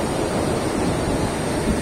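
Ocean waves crash and wash onto a beach in Goa, a loud, unbroken surf roar close by with no voices.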